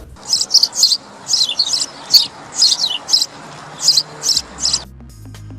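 House sparrow chirping in a repeated series of short, bright twittering bursts, about a dozen calls in a loose rhythm, close and clear over a quiet background.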